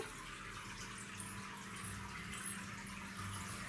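Water for chicken biryani boils in a pot, a faint steady bubbling and hiss with no talk.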